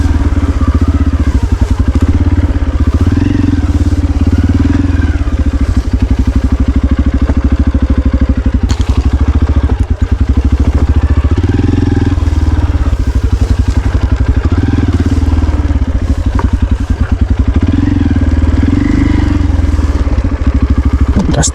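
A motorcycle engine labours loudly and continuously as it climbs a steep, slippery mountain trail on Mount Pogonsili, with rattling and clatter throughout and a rider's voice faintly mixed in.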